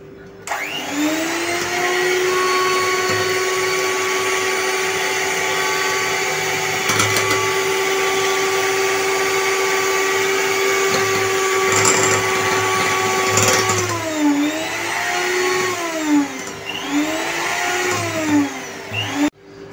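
An electric hand mixer whirs steadily while whipping cream for a no-oven chocolate cake, loud and close, running at an even pitch, then wavering and dipping in repeated swells toward the end as the beaters work through the bowl.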